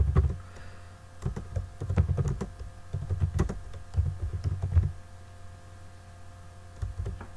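Rapid clusters of keystrokes on a computer keyboard while code is entered, close and fairly clear, arriving in bursts with brief pauses, over a steady low electrical hum.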